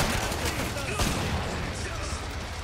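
Rapid gunfire in the co-op shooter video game Killing Floor 2, a dense burst of repeated shots fired down a hallway, loud and continuous with sharp cracks throughout.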